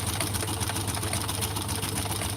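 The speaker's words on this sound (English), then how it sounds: "now I'm just sewing all the way to the top" A sewing machine stitches fabric with an even, continuous motor whir and rapid needle chatter, close and steady throughout.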